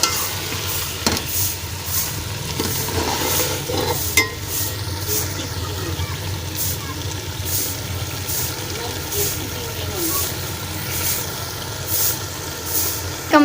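Tinda (round gourd) curry frying in a pan with occasional stirring, a steady broadband sizzle with scattered scraping clicks and a low rumbling hum underneath.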